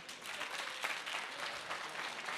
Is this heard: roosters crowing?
no